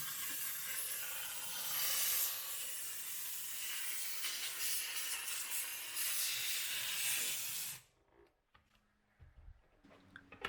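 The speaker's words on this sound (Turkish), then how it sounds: "Duruladıktan sonra son bir kez buharlı fırçayla tekrar üzerinden geçiyorum" A steam brush hisses steadily over a rinsed range hood filter, a loud continuous bright jet of steam for several seconds that cuts off abruptly, followed by faint clicks and handling noises.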